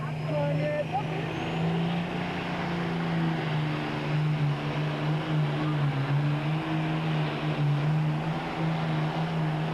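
A John Deere 6030 pulling tractor with a 619 cubic inch engine roars in a steady, loud drone with a droning low pitch at a 2002 NTPA pro stock tractor pull in Saline, Michigan, with an announcer talking over it.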